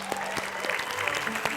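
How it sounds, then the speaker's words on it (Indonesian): A studio audience at an Indonesian comedy show claps in a short, dense burst with a few sharper claps standing out. "Tepuk tangan dong"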